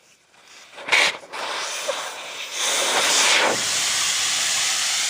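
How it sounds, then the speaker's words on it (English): A steady hiss of air escaping from a tire valve with the valve core removed, starting after a brief noise and growing slightly louder, continuing without a break. "As you can hear, I'm letting all the air out."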